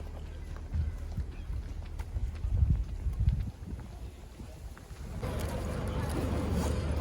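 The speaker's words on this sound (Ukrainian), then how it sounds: "вже сіли на лодку." A passenger boat heading out to an island near Toronto rumbles with a low motor drone and water movement, steady and moderately loud, with a brighter wash of engine and water noise building in the final seconds.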